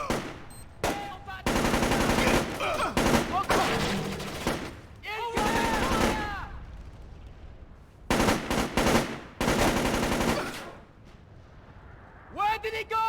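Video game gunfire from Splinter Cell: Chaos Theory, loud bursts of automatic shots in repeated volleys with short pauses between them, while game characters' voices shout over and between the shooting.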